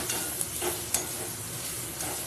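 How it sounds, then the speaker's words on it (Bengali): Spices such as cumin, coriander, chilli powder, turmeric and salt sizzle in a hot pan while being stirred, a steady frying hiss with a few sharp spatula scrapes and taps, close and alone without talk. "জিরে ধনে লঙ্কার গুঁড়ো হলুদ নুন সব কিছু দিয়ে ভালো করে আমি ভাজা ভাজা করে নেবো"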